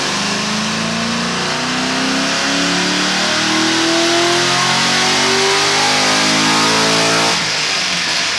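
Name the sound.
supercharged C6 Corvette Z06 engine revving, exhaust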